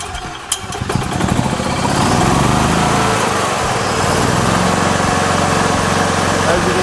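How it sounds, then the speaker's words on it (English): A gas golf cart engine sputters to life and settles into a steady, buzzing idle close by, with someone speaking briefly at the start. "Now we're going to start the engine and we're going to run the engine."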